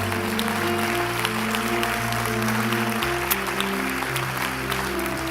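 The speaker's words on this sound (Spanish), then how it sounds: "Fuerte aplauso al Señor." A church congregation claps for the Lord after a prayer at a Spanish-language service, steady applause over sustained organ or keyboard chords that shift in pitch, fairly loud throughout.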